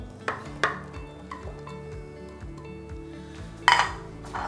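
A spoon stirring béchamel with ham, nutmeg and garlic in a pan: repeated scraping strokes against the pan, with light clinks and one louder metallic knock near the end, close and steady.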